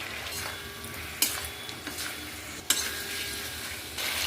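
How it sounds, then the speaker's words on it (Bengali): Potatoes and shrimp fry in a pan for a Bengali potato and prawn curry, a steady gentle sizzle broken by a couple of sharp spoon knocks as they are stirred, fairly quiet and close, with no talking. "সমস্ত আলু আর চিংড়ি মাছগুলো দিয়ে দিলাম।"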